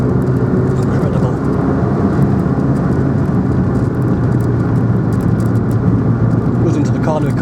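A 2000 Ford Puma 1.7 Zetec-S 16v, 123 bhp, driven hard through corners, its engine a steady loud drone under road and wind noise with someone talking over it throughout.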